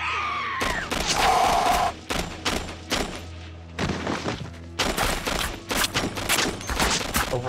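Gunfire from a zombie film scene: a dense burst of rapid shots, then loud repeated volleys with brief gaps, close and forceful, with no talking.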